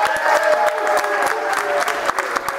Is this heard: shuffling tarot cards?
no